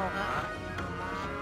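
Cows in the game Okami HD give a loud, sustained, tonal moo that fills the short moment up close, with no other sound breaking through.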